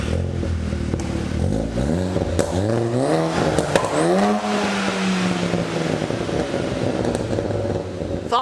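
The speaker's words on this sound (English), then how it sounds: "Thought I'd just rev it to show everybody, you know, how it sounds, because it sounds really good." A SEAT Leon Cupra K1 engine revs hard several times, the pitch climbing and falling in repeated sweeps before one long rise that settles back to a steady idle, loud and close with no talking over it.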